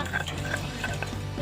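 A stone pestle grinding spices in a mortar for an Indonesian coconut-milk dish, with quick repeated scraping and knocking strokes at a close, steady pace and no talking.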